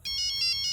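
A cell phone ringtone chirps in a rapid repeating electronic pattern of high bright tones, steady and clear over faint background noise.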